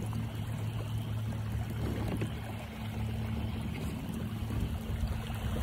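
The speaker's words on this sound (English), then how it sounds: "So this is wide open with the trolling motor." A trolling motor running wide open pushes a fishing kayak across open water, making a steady, continuous rush of water and hull wash with a low motor drone underneath, close and even throughout.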